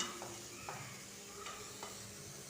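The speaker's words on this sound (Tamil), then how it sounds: "காய்கறிகளை ஒரு ரெண்டு டு மூணு நிமிஷம் மீடியம் ஃப்ளேமில் இந்த எண்ணெயிலே நல்லா வதக்கி எடுத்துக்கலாம்" Vegetables sautéing in oil in a pan over medium flame, a soft continuous sizzle with a few light stirring scrapes and taps spaced through it; quiet and close, without speech.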